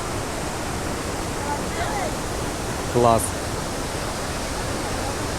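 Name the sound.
Iguazu waterfalls roaring, Argentina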